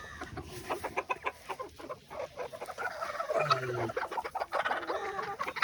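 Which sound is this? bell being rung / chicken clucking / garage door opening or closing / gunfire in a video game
chicken clucking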